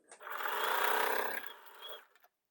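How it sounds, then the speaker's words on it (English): A sewing machine stitches quilt block pieces in one short, close, steady whirring run of about two seconds that slows and stops. "I can sew the length of this piece."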